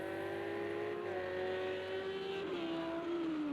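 A Lamborghini GT3 race car engine in the Project CARS 2 racing game at Laguna Seca, a steady loud high-revving drone that holds pitch, dips slightly on gear changes and lifts again.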